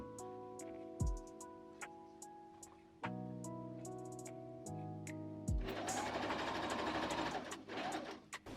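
Sewing machine stitching horsehair braid right sides together onto a skirt hem, the braid slightly stretched, a steady close motor whir with a few short pauses and restarts.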